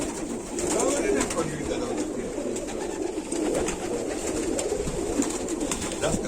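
Pigeons coo softly amid a busy, noisy background, with faint voices in the mix.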